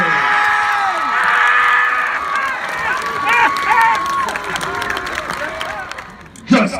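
A high school homecoming crowd at halftime cheers loudly for the crowning of the king and queen, a dense wall of shouts, whoops and applause that rises and surges throughout, with a sharp burst near the end.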